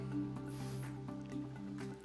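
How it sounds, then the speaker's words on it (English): Water at 205 degrees Fahrenheit poured over ground coffee in a Kalita Wave dripper, giving a soft, close, continuous trickle and squishing drip for a couple of seconds. "I'm pouring 150 milliliters of water at 205 degrees Fahrenheit for a 1:15 ratio"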